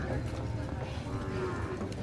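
A Holstein cow gives a low, drawn-out moo among large cattle at a livestock gathering in La Libertad, heard faintly through a steady wash of crowd and outdoor noise.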